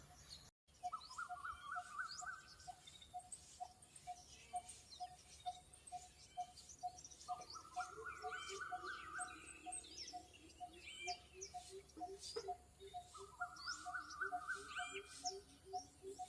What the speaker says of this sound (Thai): มีเสียงนก ร้องเสียงแซ่เลยครับ